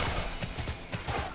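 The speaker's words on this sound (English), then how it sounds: "Just get on a horse." Horse hooves clip-clop in the online role-playing game Tera, a steady run of soft, evenly spaced thuds at moderate distance, heard alone without any voices.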